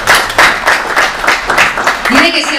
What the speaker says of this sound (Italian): un applauso per voi bravi